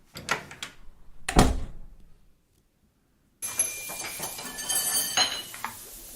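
Door opening as a radio drama sound effect, leading from a corridor into a kitchen: a few clattering, clinking knocks and a creaky swing, a gap of silence, then busier rattling and clatter with faint background bustle.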